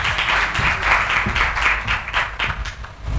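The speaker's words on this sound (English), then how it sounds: "Ladies and gentlemen, a big hand clap for Stella." Guests at an awards ceremony clap for a woman coming up to speak, with dense, continuous applause, close and fairly loud across the whole stretch.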